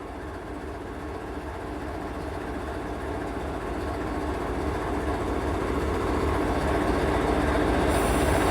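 A CSX ES44AH diesel locomotive idles or runs nearby with a steady, loud engine rumble and hum, slowly building in level and continuing without a break throughout.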